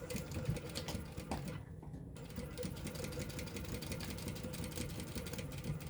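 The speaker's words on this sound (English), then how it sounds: "now we're gonna top stitch this piece. Only this time we're stitching the lining to it too." A sewing machine top-stitching a lining onto a fabric piece, a fast steady mechanical whir and needle chatter close by, with one short pause partway through.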